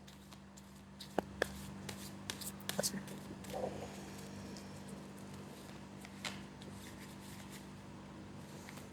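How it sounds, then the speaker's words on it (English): Tarot cards are shuffled in short riffling bursts and soft slaps over a steady low hum, close and fairly quiet, with a single spoken word partway through. "We do a couple more shuffles."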